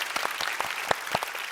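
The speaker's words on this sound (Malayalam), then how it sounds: "വലിയൊരു കയ്യടി." A studio audience breaks into a short burst of applause on a television entertainment show, dense, steady clapping heard briefly on its own.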